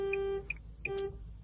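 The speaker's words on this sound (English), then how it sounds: "Alarm's going off." A car alarm sounds during Nissan key programming as a series of short electronic beeps and tones in an uneven pattern, faint and repeating with no speech.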